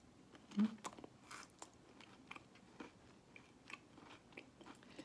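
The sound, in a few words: biting and chewing crispy homemade biscuits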